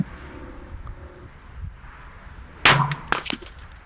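A single sharp rifle shot cracks out at a 100-yard range in gusty wind, preceded by low rumbling wind noise, with a metallic ring and a couple of fainter echoes trailing after it.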